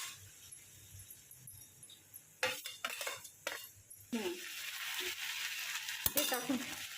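A spoon stirring paneer chilli in a pan, with quiet stretches broken by bursts of scraping, clinking metal and light sizzling, plus one sharp clang near the end, close and fairly soft.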